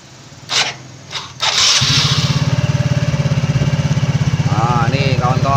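A Yamaha Mio J scooter engine with a new piston and connecting rod sputters to life and then runs loudly with a steady rapid putter, revving up and down several times near the end.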